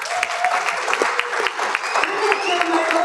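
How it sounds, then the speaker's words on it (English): Steady round of applause from a conference audience at a North Texas production summit, dense clapping throughout with a few brief voices rising over it. "Why don't you give them a round of applause?"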